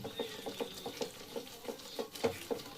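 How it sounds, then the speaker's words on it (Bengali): A jackfruit curry being sautéed in a pan, with soft, faint, regular taps and scrapes of stirring and a quiet sizzle beneath. "এবার কষিয়ে নেব বেশি সময় লাগবে না এগুলোকে কষাতে"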